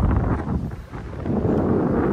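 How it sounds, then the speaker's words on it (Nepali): Strong wind blows outdoors at a riverside ghat on the Karnali, rumbling steadily and buffeting the microphone with deep, continuous roaring that dips briefly before surging again. "हावा एकदमै चलिरहेको"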